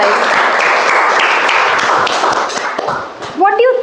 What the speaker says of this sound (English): Let's give a big round of applause for all those amazing